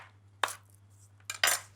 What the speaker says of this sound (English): Some chilli, so long red chilli. To help the blender, I will just roughly chop it.